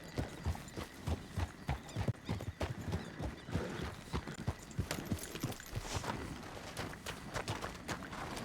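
Rapid clip-clop of horse hooves runs throughout, with a horse whinnying partway through, close and fairly loud against a busy background, in a video game.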